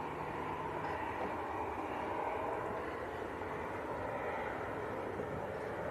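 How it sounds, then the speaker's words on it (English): A steady, distant jet roar from an airliner approaching to land at Manchester Airport, a constant broadband rumble with no talk over it. "Next aircraft about to touch down."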